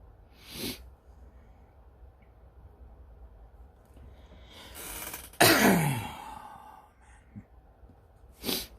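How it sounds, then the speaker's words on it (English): A few scattered coughs and throat-clearing bursts, the loudest a harsh rasping cough midway, separated by quiet breathing. "Sorry, I am just coughing."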